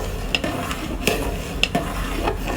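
Firni being stirred in a pot with melting date palm jaggery: a spoon scrapes and knocks against the metal in sharp clinks at irregular intervals over a soft, steady simmering hiss.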